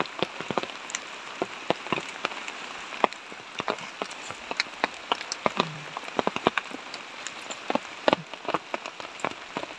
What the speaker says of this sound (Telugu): ఇప్పుడు వర్షం పడుతుంది కదా